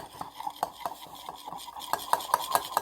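A spoon stirs coffee in a cup, clinking against the sides in quick, steady strokes that grow louder and brighter toward the end, close and alone with no talking.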